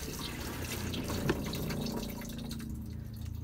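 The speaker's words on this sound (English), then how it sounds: "If I press the button and hold the button, we'll get a longer flush." Water rushes steadily from an Avan toilet as the flush button is held down for a long flush, a continuous close-up gush lasting several seconds and easing slightly near the end, with no talk.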